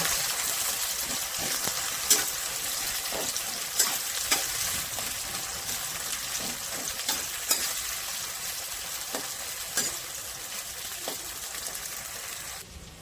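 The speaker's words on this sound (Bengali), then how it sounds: "মানে পেঁয়াজটাকে লাল লাল করে ভেজে নেবো" Chopped onions frying in the oil left from frying rohu fish: a steady crackling sizzle with scattered sharp spatters and stirring clicks, close-up, no talking.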